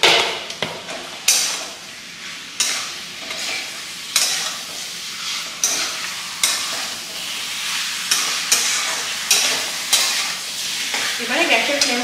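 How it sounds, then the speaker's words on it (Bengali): Goat meat stir-fried with spices in a pan sizzles loudly and continuously while a spatula scrapes and knocks against the pan in regular repeated strokes. "একদম কষিয়ে কষিয়ে মাংসটাকে একদম মজিয়ে আনতে হবে"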